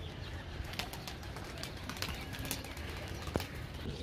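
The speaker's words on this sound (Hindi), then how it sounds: "उड़ाए हुए हैं कबूतर।" Pigeons flying overhead with faint, rapid wing flapping and occasional soft calls amid steady outdoor background noise, heard fairly far off.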